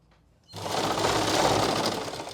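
A sewing machine stitches a belt onto a salwar. After a brief quiet start it runs in a loud, steady, close-up burst of rapid needle chatter.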